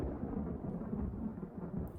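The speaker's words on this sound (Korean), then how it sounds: "하늘이 우르릉 쾅쾅거리는 것을 눈치채지 못했나 봐요" Thunder rolls in a low, continuous rumble that stays loud and steady for about two seconds, with no voices over it.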